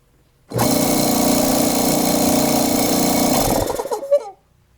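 A repaired California Air Tools air compressor starts up and runs steadily at close range with a loud, even motor drone for about three seconds, then sputters and winds down to a stop.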